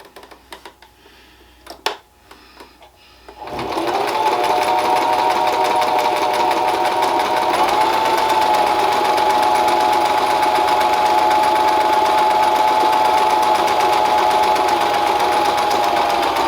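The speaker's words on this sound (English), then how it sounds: "you can just sew right over them when you sew on your next one" A sewing machine stitches ribbon in place, starting after a few quiet knocks and handling sounds, then running as a loud, steady, fast mechanical whir to the end.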